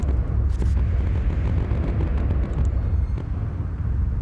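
Flak bursts in the air-combat game Bomber Crew rumble as a continuous, heavy low-end barrage of overlapping booms, loud and dense throughout with no clear gaps between blasts.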